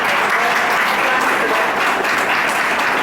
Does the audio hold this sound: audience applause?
yes